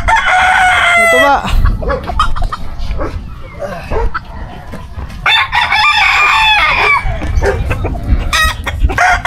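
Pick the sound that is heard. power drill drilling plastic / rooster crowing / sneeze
rooster crowing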